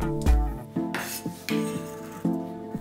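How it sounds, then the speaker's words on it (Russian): Kitchen knife chopping half an onion on a board, with a few distinct knife strokes and clinks at an irregular pace, close and fairly loud with no talking. "Нарубите мелко пол луковицы."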